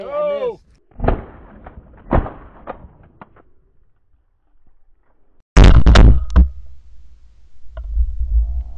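A shotgun blast during a sandhill crane hunt in Texas fields, loud and close, followed by its rumbling echo, with several sharp clicks and short shouted voices around it.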